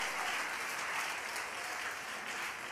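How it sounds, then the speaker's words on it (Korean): A church congregation applauds in praise after Bible-reading awards are announced, an even, sustained roar of clapping from a large crowd with no break. "주님께 영광의 박수 올려드리겠습니다."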